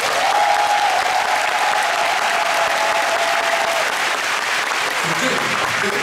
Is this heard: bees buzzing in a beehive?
no